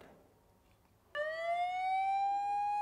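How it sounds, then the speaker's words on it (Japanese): A fire engine siren sounds as a sound effect, starting abruptly after a quiet second and then holding a loud, steady rising wail with strong harmonics until the end, with no talk over it. "消防車呼ぶんやで"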